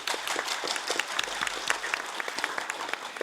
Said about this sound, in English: Let all of us give a big round of applause.